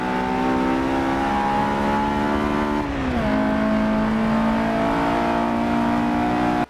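A car engine revs steadily and loudly during a Forza race against a Lotus Elise and an Audi RS4, holding a high pitch, briefly dropping as it shifts gear, then climbing again.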